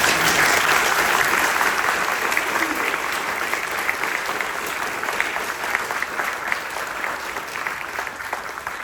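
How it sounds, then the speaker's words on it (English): An audience at a library author talk claps steadily in a sustained round of applause, dense and fairly loud, fading only slightly over its length. "Can we get another round of applause?"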